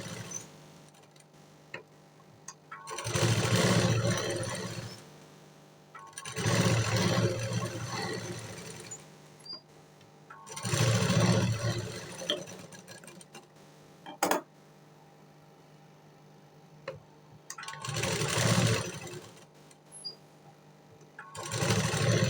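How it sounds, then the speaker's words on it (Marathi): A sewing machine stitches the sides of a blouse in five separate bursts of rapid whirring and ticking, each a few seconds long, with quiet pauses between them. "आता बाकी चारही साईडून मी शिलाई मारून घेणार"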